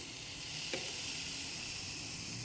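Food stirred in a hot pan after water is added, a steady faint sizzle with a single soft utensil scrape, no voices.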